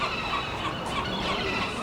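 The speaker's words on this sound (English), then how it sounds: "You can hear our friends, the seagulls." Seagulls call outside a parking lot at the Monterey car auction, their raucous cries rising and falling through a loud, dense wash of outdoor noise.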